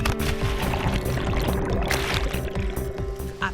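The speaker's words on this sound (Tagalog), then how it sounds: "talon" Water rushes and splashes steadily from a waterfall in Romblon, a continuous close, dense roar with no talk over it.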